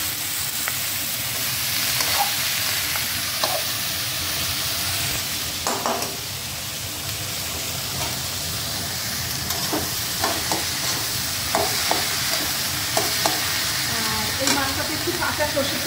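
Pieces of banana flower dropped into hot oil in a pan hiss with a continuous sizzle, with scattered scraping and clinking from stirring throughout.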